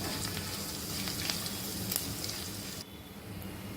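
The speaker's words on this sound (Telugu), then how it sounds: "కొంచెం ఈ పచ్చిమిర్చి వేయడానికి కొంచెం టైం పడుతుంది మిగతా అన్నీ అయితే వేగిపోతాయి" Green chillies and tempering spices fry in hot oil in a pan, giving a dense, steady crackling sizzle that fills the clip before dropping to a quieter hiss near the end.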